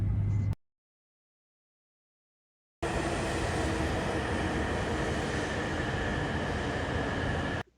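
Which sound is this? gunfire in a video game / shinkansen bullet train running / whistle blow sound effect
shinkansen bullet train running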